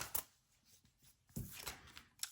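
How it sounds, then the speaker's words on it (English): Deck of cards being shuffled for a card reading, a few quiet, brisk riffling bursts separated by short pauses, close and faint. "While I shuffle"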